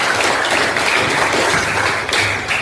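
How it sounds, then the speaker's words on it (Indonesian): Students in a classroom clap on the teacher's cue after a math lesson on trapezoids, loud close clapping with a rhythmic, patterned feel that thins out near the end. "Berikan tepuk tangan"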